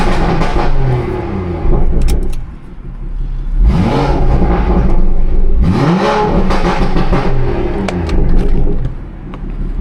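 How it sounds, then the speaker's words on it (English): A BMW 340i with a loud aftermarket exhaust revved hard, two sharp rising revs that fall back to a burbling idle, close and loud. "Give y'all boys a little rev."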